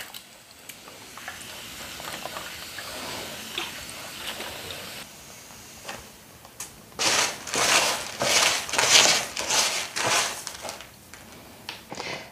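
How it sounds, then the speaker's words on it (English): Crunchy, gritty rustling and pattering as perlite in a pot is moistened with water, faint at first, then louder bursts of crackling toward the end. "Now I will moisten my perlite a little bit. I want it nice and damp."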